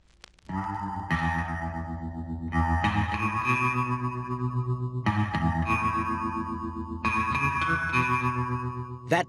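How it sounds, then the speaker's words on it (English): A twangy 1960s rock electric guitar with tape echo picks bright, ringing notes in repeated phrases, each note decaying into echoing repeats. "That twangy guitar sound, so much a part of rock music in the 60s"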